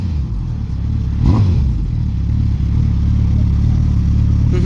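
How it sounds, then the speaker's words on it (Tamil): A superbike at a track event in Coimbatore revs loudly nearby, its engine rising in a sharp burst then settling into a rough, uneven idle-to-throttle rumble with clattering mechanical edges. "ஒரு பெரிய பைக் அப்படின்னா இங்கே பாருங்க."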